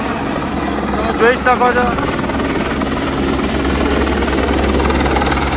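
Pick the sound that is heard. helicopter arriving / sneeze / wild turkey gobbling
helicopter arriving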